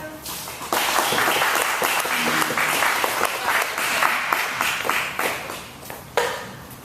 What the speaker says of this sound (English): Another big round of applause for Sanjay and Yulia for Mocana.